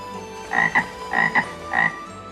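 A cartoon frog croaks in three short bursts, each a quick double croak, loud and close against faint background music with no talking.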